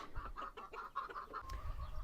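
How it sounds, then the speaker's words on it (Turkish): Sussex roosters and hens cluck in a quick run of short, close calls on a farm, the notes tumbling together and trailing off at the end. "Bakın ileride de Sussex horozları var."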